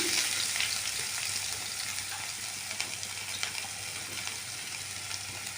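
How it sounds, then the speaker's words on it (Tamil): Chopped onions frying in a pan for egg dosa, a steady close hiss of sizzling oil with faint crackles throughout, no voices. "ஸோ ஆனியன் வந்து நல்லா ஃப்ரை ஆகணும்"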